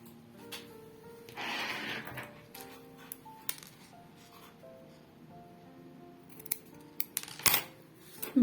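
Scissors snip through the yarn of a knitted rose, a few sharp close clicks scattered among quiet handling noise and faint background tones.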